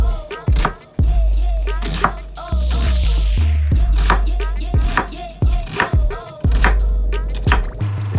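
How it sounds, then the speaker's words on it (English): A knife chops through a cabbage on a cutting board, a rapid run of about a dozen loud, sharp thuds in an uneven rhythm, close and clear with no talk. "And here we're going to cut our cabbage up."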